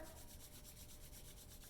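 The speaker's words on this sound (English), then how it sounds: "make your rain a little bit louder by rubbing your hands together" Quiet, steady rubbing of palms together, a continuous dry swishing with a faint back-and-forth pulse and no talking.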